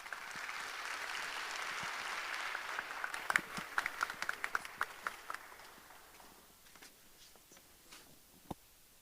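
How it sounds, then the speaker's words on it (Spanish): Audience applause welcoming a keynote speaker at the opening plenary of an education conference in Peru. It is a steady, dense clapping that swells briefly, then thins out into a few scattered, sharper individual claps before fading. "La recibimos con fuertes aplausos."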